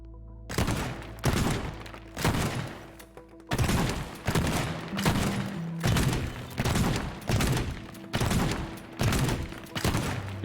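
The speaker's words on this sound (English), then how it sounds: "The shotgun doesn't even cause fires." A shotgun fires repeatedly in the destruction video game Teardown, a series of heavy booming blasts about once a second with crumbling debris rumbling between shots.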